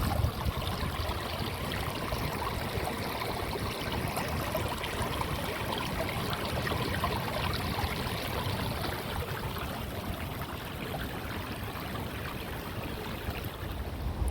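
Monsoon rainwater rushes steadily through a stream beside a village temple in rural Konkan, a loud, continuous broadband gush with no break or voices over its whole length.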